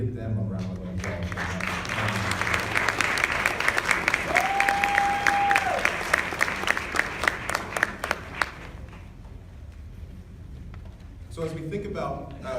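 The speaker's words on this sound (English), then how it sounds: "Can we give them a round of applause?" An audience at a meeting applauds with sustained, crowded clapping that builds and then thins out. A brief tone sounds partway through, and the clapping trails into quieter room noise before a voice returns.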